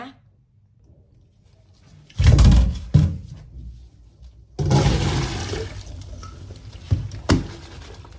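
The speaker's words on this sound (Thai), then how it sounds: "แล้วก็เปิดน้ำใส่ล้างไปหลาย ๆ น้ำเลยนะคะ" Tap water runs and splashes while pickled mangoes are rinsed, coming in two loud gushing bursts separated by quieter handling noises.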